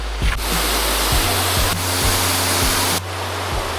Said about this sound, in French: La première cascade qu'on voit.